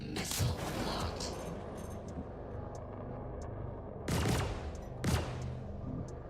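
Missile launches and gunfire in a Star Citizen space dogfight, with a few sharp loud bursts standing out over a steady rumbling game soundscape, two heavy blasts close together near the end.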